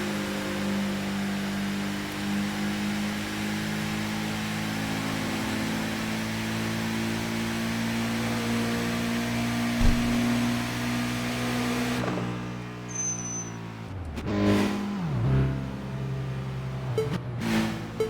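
A car engine drones steadily while driving in Tokyo Xtreme Racer 2025, a sustained hum that cuts out near the end as other sharp sounds break in.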